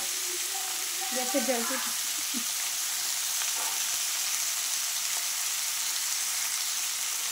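Young jackfruit pieces frying in a pan over gas, a continuous soft sizzle of oil with a few faint stirring knocks and clinks early on.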